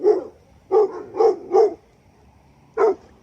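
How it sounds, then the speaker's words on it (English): A large dog named Philly barks outdoors on a walk, giving a handful of loud, close, deep barks in a quick cluster, then one more after a short gap. "Philly is such a big dog"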